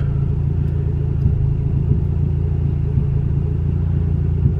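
A turbocharged Honda Civic GSR with a swapped B18C engine and Rev9 turbo kit idles steadily, a close, loud, even rumble with a slight lumpy pulse and no revving, heard alone.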